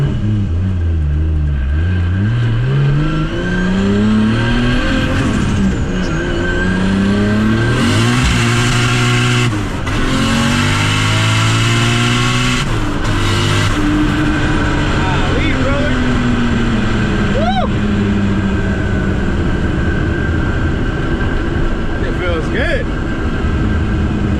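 A 550hp 2JZ-powered car pulls hard through the gears, the engine note climbing loudly then dropping at each shift before rising again, close and sustained for the whole run, with people talking over it.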